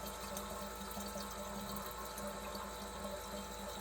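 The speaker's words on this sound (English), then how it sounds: "It's just sucking the fuel up. It's just purging the fuel back out." Kerosene flushed through the FCR carburettors and fuel system of a motorbike, pumped back out the return line to purge methanol, makes a continuous, steady liquid hiss and gurgle close by, with no talking.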